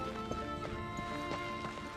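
Horse hooves galloping in the Darksiders II video game, a steady run of thudding clip-clop beats over a constant, dense game-audio bed.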